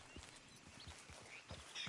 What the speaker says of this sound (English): Just admiring your horse there.